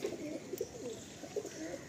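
Madrasi and Andhra pigeons coo softly nearby in a few short, repeated throaty calls over a quiet background, with no talking.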